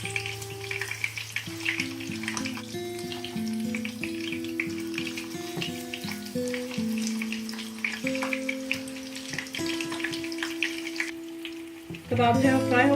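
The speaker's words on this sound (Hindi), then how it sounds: "मैं यहाँ पे बीफ का यूज़ कर रही हूँ तो मैं इसको जो है वो लो फ्लेम पे फ्राई कर रही हूँ" Beef chapli kebabs, Peshawari style, fry on a low flame in a pan with a steady sizzle under melodic background music, and the sizzle grows louder and sharper in a short burst near the end.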